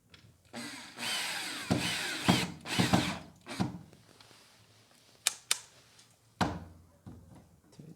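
A power drill tightens a screw in a few close bursts of whirring in the first seconds, then gives way to scattered knocks and handling clicks.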